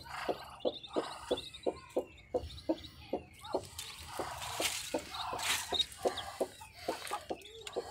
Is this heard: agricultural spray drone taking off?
no